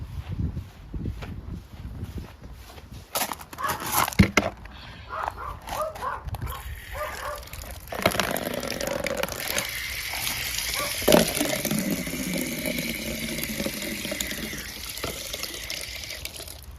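Water running from a small faucet to rinse out a compost container while feeding worms, a steady splashing stream over background noise, with a dog barking faintly.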